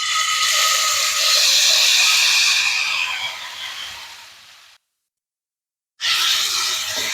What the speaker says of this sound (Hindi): तो अब हम इसके अंदर डालेंगे चिकन